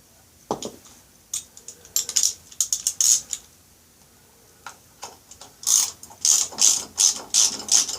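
A hand ratchet clicks in quick, close bursts while a bolt comes out of a motorcycle air filter. There are scattered short runs at first, then a steady, louder series of rapid pawl clicks near the end.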